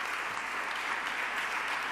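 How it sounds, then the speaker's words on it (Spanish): Steady applause from cooperative representatives in a parliament chamber, a continuous wash of distant clapping at low level. "Con aplausos de los representantes de las cooperativas"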